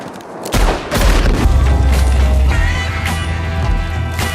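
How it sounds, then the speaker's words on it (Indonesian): Movie gunfire from a Western film scene, rapid shots leading into a heavy dynamite explosion with a deep rumbling boom that lingers and trails off under further shots. "Salah satunya bahkan membawa dinamit, makanya pas ditembak tadi meledak."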